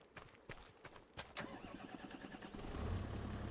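Tractor engine in the Farming Simulator 25 video game, a loud low rumble that starts from rhythmic chugging pulses and settles into a steady, rising drone.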